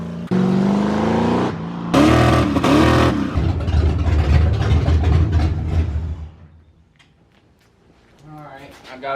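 A Ford Mustang Foxbody's engine runs and revs loudly on its first drive, swelling then fading as the car moves away, with people talking over it.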